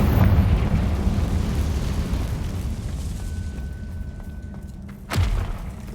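A Confringo fire spell blasts in Hogwarts Legacy, a dense rumbling explosion that rolls on for several seconds, followed by a sharp whoosh and a second thudding burst near the end.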